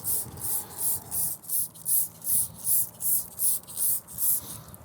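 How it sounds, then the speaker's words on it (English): Cleaner is sprayed onto a car tire in about a dozen short, regular bursts of hissing mist, close and loud, one after another with brief gaps between them. "We're gonna go ahead and spray this tire."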